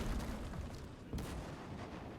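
Artillery strikes destroy a church in a World War II strategy video game, giving a dense, rumbling barrage with a fresh heavy impact just past one second, all at a low, distant level.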